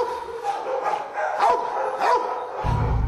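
A pit bull barks repeatedly in a kennel, several loud, close barks in quick succession with some whimpering tone between them.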